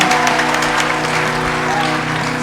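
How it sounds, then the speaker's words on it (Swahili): Sustained applause from a church congregation praising God during a sermon, dense steady clapping close by and loud throughout, with a little voice mixed in. "applaudissez pour notre Dieu"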